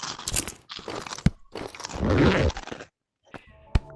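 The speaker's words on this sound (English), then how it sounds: "Bro's eating chips." A person munches chips, heard in a VR game's voice chat: several loud, close, crackly crunching bursts, separated by short pauses, with a few sharp clicks toward the end.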